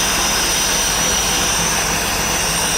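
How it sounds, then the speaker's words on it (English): A big block marine engine runs out through risers to a silent exhaust, giving a loud, dense, steady roar with a constant whine and no talk. "look at this run for a big block, what it's supposed to do, not a lot of vibration"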